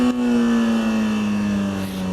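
A superbike engine revs steadily and loudly as the throttle rolls on to lift the front wheel into a wheelie, a strong sustained drone that holds close for about two seconds.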